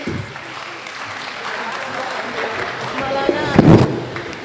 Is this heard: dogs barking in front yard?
no